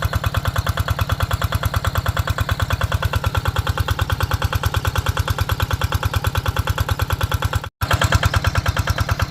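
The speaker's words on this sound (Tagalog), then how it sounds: "Bali pangalawang water pump na ito." An engine-driven water pump irrigating a corn field chugs steadily up close, a rapid, even put-put beat throughout with one brief dropout near the end.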